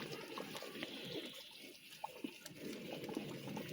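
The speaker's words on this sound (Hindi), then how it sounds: "अब हम इसमें ऑयल का कप डालेंगे।" Oil poured from a cup into thickened sugar syrup for a Boli (semolina panjiri) recipe, a steady faint liquid pouring and sizzling wash with a few small bubbling pops, no voices.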